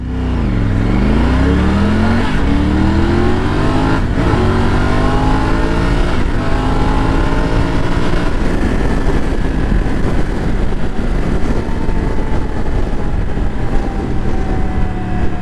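A Triumph Tiger 900 motorcycle accelerating hard in sport mode, its engine loud and close, rising through several quick-shifted gears with brief pitch drops between pulls, under heavy wind roar.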